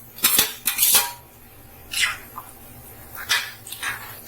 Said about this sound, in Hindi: ये कटे हुए जो आलू के टुकड़े हैं इसको भी डाल देंगे